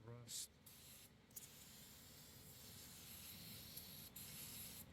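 An aerosol spray blasts rust debris off the rear brakes of a 2007-2014 Mercedes-Benz C300, making a loud, continuous close hiss after a short opening burst.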